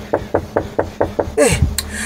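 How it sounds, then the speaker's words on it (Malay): Six evenly spaced knocks on a house door at night, sharp and close, followed by a rushing, descending swoosh and a bright burst like a horror sound effect. "Tidak aku jangka pintu rumah aku diketuk."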